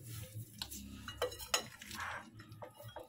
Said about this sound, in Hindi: अब इस सबको मिक्स कर रहा हूँ। ठीक है, अच्छे तरीके से इसको मिक्स करूँगा।